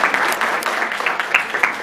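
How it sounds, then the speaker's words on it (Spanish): Brief, dense applause from a seated audience welcoming a speaker to an academic presentation, a continuous spatter of claps at moderate loudness with no voices over it. "Démosle una cálida bienvenida con fuertes aplausos."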